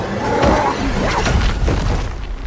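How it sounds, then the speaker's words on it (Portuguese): Grenade explosions in a superhero film scene from The Flash, heard as a loud, dense, rumbling boom with crashing debris that fills the whole two and a half seconds. "Ele usa suas granadas para explodi-lo."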